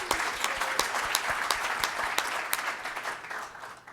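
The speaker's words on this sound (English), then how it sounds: "I think this is worthy of applause" Audience applause at an arbitration week event, a steady wash of many hands clapping at close range for nearly four seconds with no speech over it.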